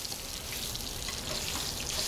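Salmon fillet frying in a hot pan on a stove, a continuous close hiss of sizzling oil at a fairly even level, with no talking.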